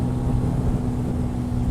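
2018 Benelli TNT 135 motorcycle engine held at top speed: a constant, loud drone with a strong low hum, heard close and steady, with no talk over it.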